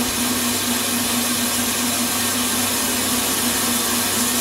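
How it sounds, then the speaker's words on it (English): Pump on a fryer oil filter machine drawing oil through a paper filter, a loud, constant motor hum with a broad hiss, unchanging and close throughout. "the pump is sucking oil through the paper, and it's filtering right now as we speak"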